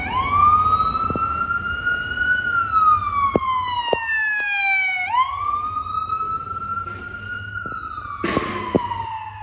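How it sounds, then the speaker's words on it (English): An ambulance siren wails nearby, rising and falling in long sweeping tones with a few sharp clicks, loud and close, no talking over it. "There goes an ambulance"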